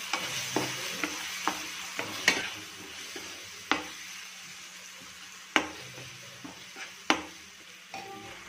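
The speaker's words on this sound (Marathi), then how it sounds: "थोडासा टोमॅटो केचप आणि हे सगळं व्यवस्थित मिक्स करून घेणार आहोत" Pasta sauce with tomato ketchup being stirred in a pan, a spoon scraping and tapping against the metal in irregular strokes over a soft, steady sizzle; close and fairly quiet, with no talking.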